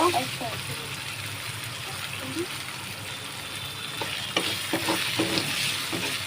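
Noodles being mixed by hand with lemon and sauce, a soft wet squelching and stirring with scattered clicks, close and steady, with a person speaking and laughing in the background.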